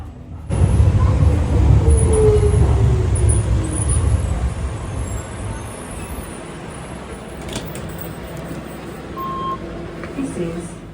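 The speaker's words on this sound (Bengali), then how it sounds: "যে ট্রেনটায় এখন চড়বো তাকে সবাই সংক্ষেপে বলে ডিএলআর ট্রেন মানে ডকল্যান্ডস লাইট রেলওয়ে" A driverless, computer-run Docklands Light Railway train in London, near Greenwich, hums and rumbles steadily, loudest at the start and easing to a softer ride noise.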